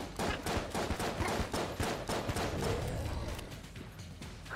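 Gunfire in the video game Enter the Gungeon, a quick regular stream of sharp shots in steady rhythm that thins out toward the end, with no talking.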